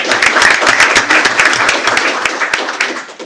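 A school board meeting audience applauds a student who set a school discus record, dense sustained clapping from many hands that carries steadily for a few seconds before easing slightly.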